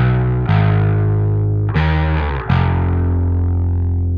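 Distorted electric bass playing three heavy sustained black metal notes, root, minor third and perfect fifth, each struck and left ringing with a gritty, fuzzy tone.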